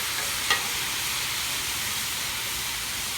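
Shrimp fried rice cooking on a Blackstone griddle gives a steady close sizzling hiss, with one sharp clack of a utensil near the start.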